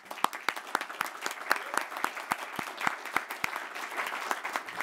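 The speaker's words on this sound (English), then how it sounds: "This applause should go to both of those organizations and their leaderships" An audience at a health-technology announcement applauds, a moderate crowd clapping with a few distinct loud claps standing out over steady, fairly even clapping.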